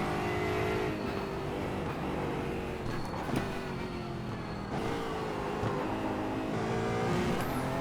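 GT4 race car in iRacing at Bathurst, its engine droning loud and steady with a quick upshift partway through, pitch dipping and climbing again, continuous and close with no voices over it.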